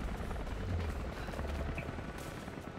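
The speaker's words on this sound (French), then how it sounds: "Alors on voit qu'il y a un autre hélicoptère qui arrive." A helicopter arriving in the video game Rise of the Tomb Raider, a steady broadband rotor rumble and wash at constant loudness, with faint sharp pops scattered through it.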